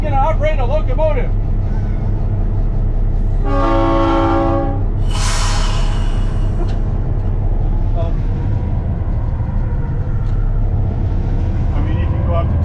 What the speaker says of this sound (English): for this stunt, I'm going to operate a locomotive